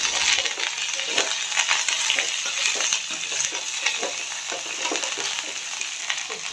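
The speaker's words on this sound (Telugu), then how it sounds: "తరిగిన పచ్చిమిర్చి, కల్లెమాకు వేసుకొని కలుపుకోవాలి" Chopped green chillies and curry leaves sizzling in hot oil while being stirred, a steady frying hiss with occasional scraping clinks of the spoon, close and continuous, with no talk.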